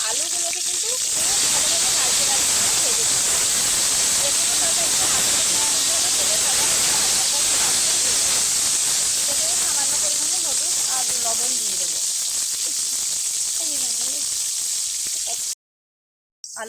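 A loud, steady hiss of potatoes frying in hot oil fills the whole stretch, with a voice talking faintly underneath, then cuts briefly to silence near the end.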